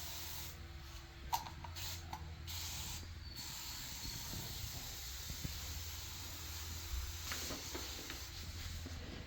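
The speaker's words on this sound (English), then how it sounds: "I'm going to spray the walls too" Several short hissing bursts of a spray bottle spraying cleaner on bathroom walls in a quiet room, some in quick succession, with a steady low background hum.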